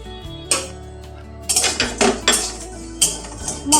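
Garam masala, two dried red chillies and cumin are dry roasted in a wok, heard as sharp metallic clanks and knocks of a utensil against the pan. One hit comes early, then a quick run of several more near the end.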